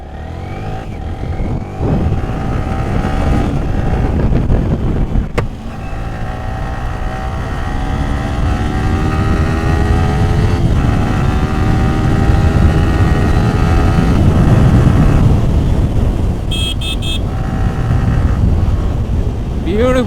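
A Yamaha R15 V3 motorcycle, BS4 with about 19 bhp, is ridden hard: a loud, steady engine drone that rises through the revs and shifts gears, with heavy wind buffeting throughout.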